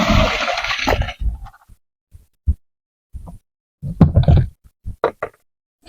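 Water from soaked barley fodder pours and splashes out through the holes of a container, then trails off into scattered drips and light knocks.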